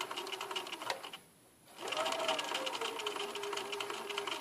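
A sewing machine stitches a patch pocket onto fabric, running steadily and close with a brief pause in the middle before it resumes its rapid, even whir.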